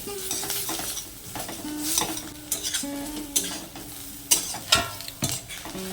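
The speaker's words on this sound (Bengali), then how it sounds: "কাঁকরোলগুলোকে অবশ্যই এরকম লাল লাল করে ভেজে নিতে হবে" Pointed gourd pieces fry in a kadai while a spatula stirs and scrapes. Repeated metallic clinks sound close over a continuous sizzle.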